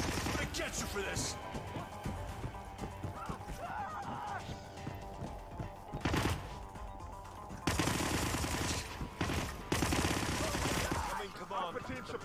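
Gunfire in the Hitman video game, with bursts of rapid automatic shots and sharp cracks over a busy combat soundscape, growing louder in the later part as voices shout beneath the action.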